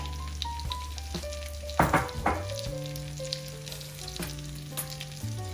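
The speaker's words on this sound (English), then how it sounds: "I'm gonna add a little bit of all-American spaghetti sauce" Spaghetti sauce and drained pasta sizzle in a hot frying pan, a steady low frying hiss with a louder burst of stirring and scraping near the middle, no voices.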